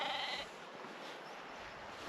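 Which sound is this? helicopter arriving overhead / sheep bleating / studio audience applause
sheep bleating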